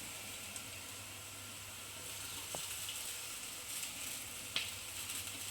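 Poha and peanuts frying in hot oil with turmeric and salt in a pan, a steady soft sizzle throughout with a couple of faint clicks, no voices.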